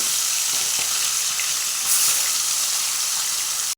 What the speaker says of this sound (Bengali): এগুলো যাই যে ছোটো ভোলা এগুলো এক এক করে ভেজে নিই